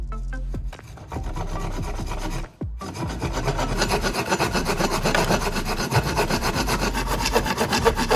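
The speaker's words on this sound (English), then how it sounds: "Now I will try sawing through a piece of wood." A sharpened handsaw rasps through a piece of wood in steady back-and-forth strokes, close and loud, after a few brief starting scrapes and a short pause.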